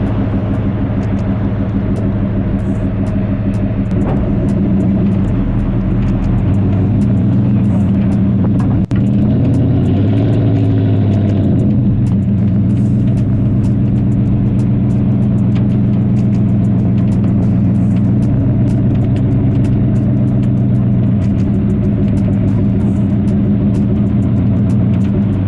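A car engine revs steadily under gas while reversing with traction control switched off, a loud, continuous low rumble that swells briefly around the middle before settling back to a sustained drone.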